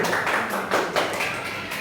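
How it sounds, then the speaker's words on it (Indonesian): Applause from a classroom or teachers' gathering, scattered hand claps for a presenter, steady and moderately close, lasting under two seconds with no talk over it. "Tepuk tangan untuk Bu Isti."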